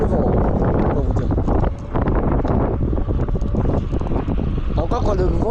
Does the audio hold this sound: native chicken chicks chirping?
no